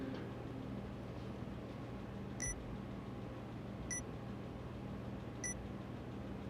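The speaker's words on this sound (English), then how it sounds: "A strange beeping sound broke Minorikawa out of his writing reverie." Three short, evenly spaced electronic beeps from 428 Shibuya Scramble ring out about 1.5 seconds apart, clear and high, above a steady low hum and background noise.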